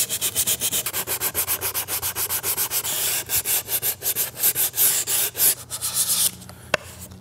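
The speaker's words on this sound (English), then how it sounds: "So now I'm just gonna go over the whole thing and do even more sanding." Hand sanding a large plastic prop sword and shield, steady rhythmic back-and-forth rasping strokes, close and loud, about a dozen strokes then a brief pause, no voices.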